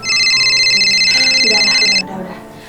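A telephone rings loudly and close with a bright, trilling electronic ring that lasts about two seconds, then cuts off abruptly, leaving faint background sound.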